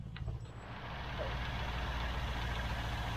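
A 1972 Range Rover engine idles steadily just after a cold start, a continuous low rumble that stays loud and even throughout with no talking.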